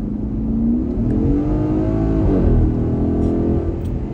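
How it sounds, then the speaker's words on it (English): Revving of a 2013 Porsche Cayenne GTS engine under a pull, loud and close, with the pitch climbing and shifting through several rising sweeps before settling into a strong steady roar. "if you heard the revs, oh man, this car sounds amazing"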